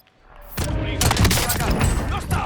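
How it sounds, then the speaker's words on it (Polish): Call of Duty Warzone gunfire crackles in dense, continuous bursts with a busy battle din around it, loud and fairly close. "On gdzieś z lewej strony strzela"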